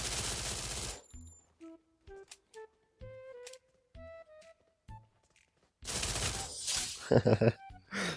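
Bursts of machine-gun fire rattle in the Free Fire video game, one dense spray at the start and another near the end, with quieter tonal game sounds and a player talking in between.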